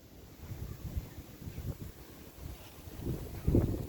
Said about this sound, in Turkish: Rüzgarlı hava, sert bir hava.